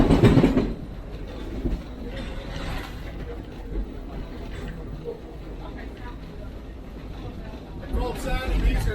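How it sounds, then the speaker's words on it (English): A long Reading & Northern passenger excursion train rolls along the rails, heard from on board as a steady low rumble with faint wheel clatter, under people talking throughout. "This is a long train, and anybody rail fanning this today is getting a real treat."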